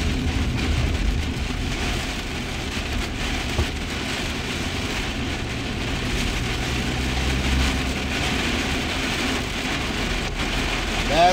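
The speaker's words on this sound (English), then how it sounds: "It is raining bad here, man." Heavy rain pours down in a dense, unbroken hiss that stays loud and even throughout, with no voices.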